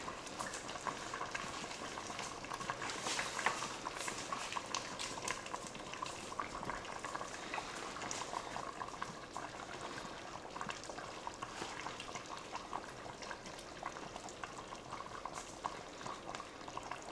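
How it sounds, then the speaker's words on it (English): Steady bubbling of a pot of chicken and dumplings at a rolling boil in an Instant Pot, continuous and fairly close, with no voices over it. "It is sitting there boiling still."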